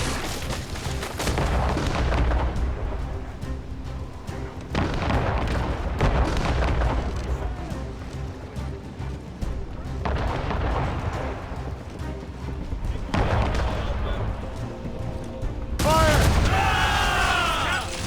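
Ship cannons of Assassin's Creed Rogue firing in a naval battle, several heavy booms spread across a long stretch over constant wind, sea and battle noise, loud and close, with voices shouting in the game.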